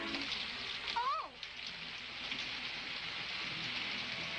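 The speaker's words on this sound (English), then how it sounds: "it's raining" Steady rain pours down outside at night, a constant soft hiss that fills the whole scene; a brief voice sounds near the start.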